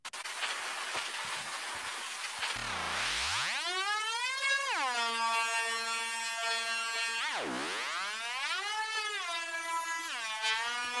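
A noise patch run through a comb filter in the Koala FX lo-fi effects app on iPad: hissy noise turns into pitched, whistling tones that swoop down and back up like a theremin, steady and fairly loud.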